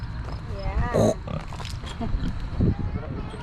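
A pig grunts and oinks in a few short bursts close by, mixed in with people talking over it.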